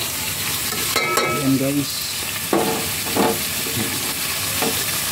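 Pork lechon paksiw with black pepper sizzles steadily in a pan while a utensil scrapes and stirs in short bursts, with a brief spoken line at the start.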